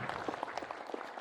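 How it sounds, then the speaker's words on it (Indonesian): Audience applause at a morning table manner and hospitality edutrip event in a hotel in Ancol, Jakarta; quiet, fairly distant clapping from a modest crowd, steady and thin throughout. "Kasih tepuk tangan yang meriah terlebih dahulu dong."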